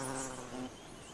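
Paper wasps buzzing around their nest on the coast of Panama, a steady close insect drone that eases off slightly after a moment.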